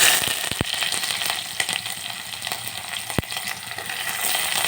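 Chopped onions with mustard seeds, cumin and curry leaves sizzle in hot oil, a steady close frying hiss broken by a few sharp pops and clicks, with no talking.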